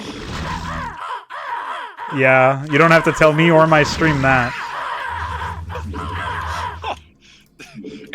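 Crow units in a strategy video game caw in a dense, overlapping racket, loud and close, with several voices talking and laughing over the calls.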